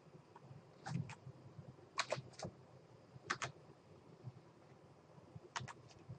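Someone enters a Windows 8 product key on a computer keyboard: short bursts of soft keystrokes in small clusters, separated by pauses, close and quiet against a low room hum.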